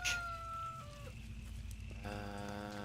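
Chickens and roosters in the farming video game Force of Nature cluck and crow faintly over a steady ambient background bed, with a brief higher tone early and no talk.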